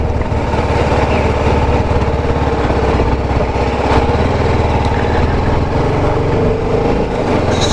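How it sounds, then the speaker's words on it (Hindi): A TVS Apache RR 310 motorcycle engine running steadily close by, a loud, continuous buzzing drone that holds an even level throughout with no talking. "ये है TVS की अपाचे RR 310।"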